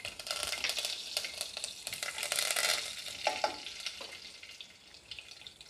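Curry leaves hiss and crackle in hot oil with mustard and fenugreek seeds, a steady bright sizzle with spattering bursts and stirring, close and loud throughout.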